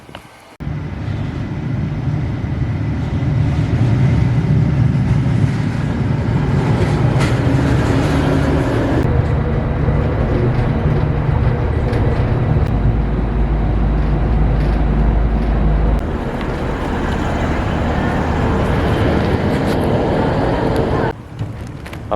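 Loud, continuous rumble of a train rolling along the tracks, heard from inside a carriage, with a sudden drop in level near the end.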